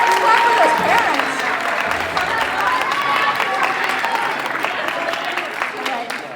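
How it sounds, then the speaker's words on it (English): A crowd at a school band concert applauds parents in a sustained burst of clapping, with some talk mixed in under the noise. "Clap for your parents. Clap for those parents."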